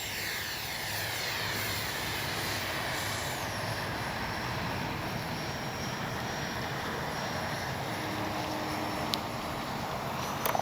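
An Arrows 64mm Marlin RC jet flies touch-and-goes, its ducted-fan whine holding steady and fairly loud throughout with a constant high-pitched tone over a broad rushing roar.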